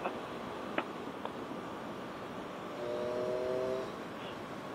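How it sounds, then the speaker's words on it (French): A motorcycle on a group ride among friends gives a steady, muffled engine drone mixed with wind noise, swelling briefly in tone and level for about a second before settling back. "Est-ce qu'elle a un beau son, ma moto?"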